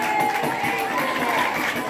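Spectators clapping at a youth under-11 football match, a steady, moderate patter of applause from a small crowd close by, with faint voices mixed in.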